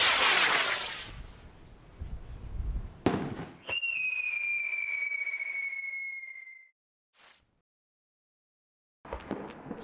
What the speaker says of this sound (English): The rocket behaves exactly as planned, right down to the screamers.